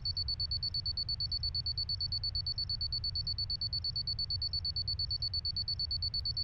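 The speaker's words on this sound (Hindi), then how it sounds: "अलार्म क्लॉक तो यही रखा था।" An alarm clock rings continuously, a high, steady electronic tone pulsing in a fast, even rhythm, fairly quiet and with no voices.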